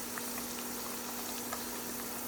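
Star anise, ginger and green onion fry in hot oil for a sesame sauce, giving a steady, soft, even sizzle with faint pops and a low hum underneath, with no talking.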